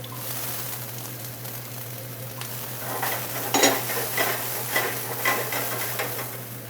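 Peppers and onions dropped into hot oil in a skillet, a soft steady sizzle with scattered utensil scrapes and clinks that grow busier partway through.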